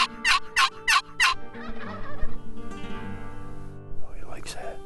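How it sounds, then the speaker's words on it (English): A wild turkey gobbler on the roost lets out a rapid string of four sharp, loud gobbles, followed by softer calls, with a person speaking quietly underneath and another gobble near the end. "have located some gobblers still on the roost"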